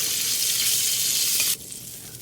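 Pork steak simmering in sauce and oil in a pan gives a loud, steady sizzle and bubbling that drops suddenly to a softer hiss, with no talking.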